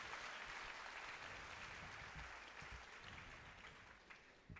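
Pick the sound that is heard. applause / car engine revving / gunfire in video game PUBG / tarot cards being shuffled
applause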